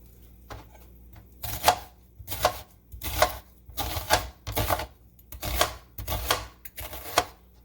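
Vegetables being prepped with a knife for egusi soup, bursts of rapid tapping chops on a board coming in regular clusters with short pauses between, close and crisp against a quiet room.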